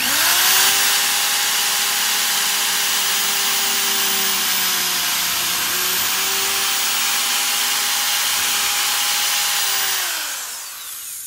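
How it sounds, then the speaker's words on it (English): Power drill boring holes through cast resin octopus ornament pieces, a steady loud whine holding for about ten seconds, dipping slightly midway, then spinning down at the end with no talking. "I'm going to drill these other octopi that are sitting here too."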